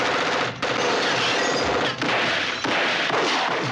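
Rapid bursts of automatic gunfire from a John Woo film shootout scene, loud, dense and sustained, broken by a few brief gaps, with no voices.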